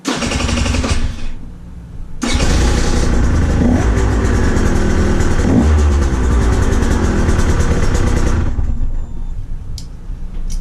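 A KTM 150 XC-W two-stroke dirt bike engine fires up after a brief starting attempt, then runs loud and close with sustained revving and throttle blips before cutting off near the end.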